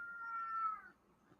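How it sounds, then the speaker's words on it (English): A single faint, rising-and-falling cat meow, soft and close, lasting under a second with quiet background after. "Smart kitties."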